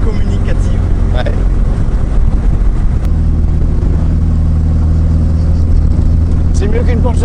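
An Austin Healey Sprite Mk1 Frogeye drives along with a steady, droning engine note and road rumble heard from inside the open little car, while people talk over it throughout.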